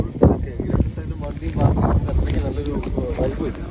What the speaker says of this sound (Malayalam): ഭയങ്കര കാറ്റ്. സൗണ്ട് പിടിക്കുമെന്ന് എനിക്ക് അറിഞ്ഞൂടാ